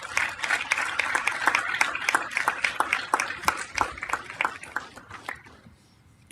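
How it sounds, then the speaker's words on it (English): Applause from a city council meeting audience honoring young artists, a steady patter of hand claps with sharp individual claps that tapers off near the end. "Let's give these young artists a round of applause"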